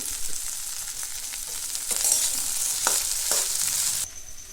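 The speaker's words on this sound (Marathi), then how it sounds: "आता कांदा आणि त्यात मिरची टाकली आता दोन्ही पण चांगलं भाजून घेतले भेंडी टाकून घेतली" Okra, onion and green chili fry in a hot pan in a village home kitchen, with a steady loud sizzle broken by several sharp scrapes and stirs before the frying softens at the end.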